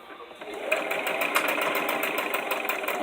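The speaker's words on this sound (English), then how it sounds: "we're just going to sew all along the edge" A sewing machine stitches along the edge of fabric bird wings, a steady close mechanical whir with a rapid rhythmic pulse running continuously after a brief quieter start.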